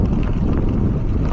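Steady, loud headwind rushes over the microphone of a bicycle rolling along a gravel dike path beside the Rhône, a dense continuous buffeting with no pauses.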